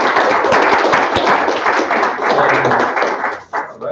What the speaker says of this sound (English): let's give our speakers a round of applause for today